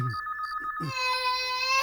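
A telephone rings with a repeating electronic ringtone in a home during a meal, preceded by a brief child's cry; the ringing continues steadily and clearly in the room.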